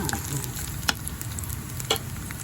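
Mixed vegetables and aburagi stir-fry in a pan with a steady, close sizzle, broken by two sharp clinks of a utensil against the pan. No talking.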